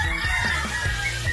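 Chickens cluck and call nearby on a farm that also keeps ducks and turkeys, short throaty bird sounds over a steady outdoor background.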